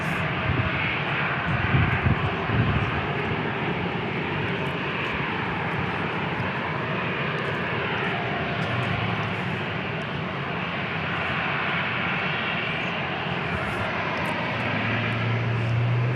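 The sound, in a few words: Alaska Airlines jet taking off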